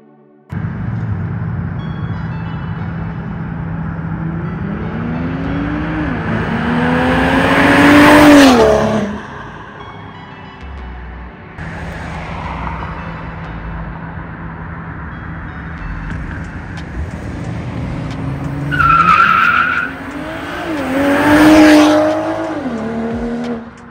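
A BMW M340i G20 with a full aftermarket exhaust blasts past on a road, engine rising to a loud rasping rev as it nears, fading, then another hard acceleration pass with brief tire chirp.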